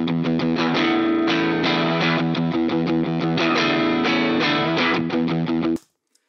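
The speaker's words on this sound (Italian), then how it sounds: "Tanta roba la distorsione con un sacco di chiarezza della Telecaster, bellissimo." A Telecaster electric guitar played through heavy distortion via a Neural plugin, chords and notes ringing loud and bright for about six seconds before stopping abruptly, with no voice.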